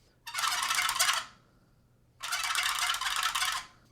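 A large wooden turkey box call is scraped to imitate a gobble, two rapid rattling bursts about a second and a half each with a short pause between, close and fairly faint, no voices.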